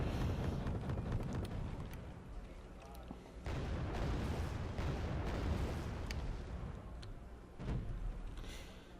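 Booming artillery fire, including cluster artillery, in a Wargame: Red Dragon battle, a steady barrage of heavy blasts and rumbling explosions with voices talking over the din.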